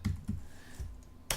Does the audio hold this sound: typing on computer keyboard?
yes